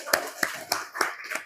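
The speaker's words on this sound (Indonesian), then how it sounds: "tepuk tangan untuk kelompok 1" Classroom applause for a student group during a volleyball passing lesson: five sharp, evenly spaced claps in a quick rhythm, near and clear.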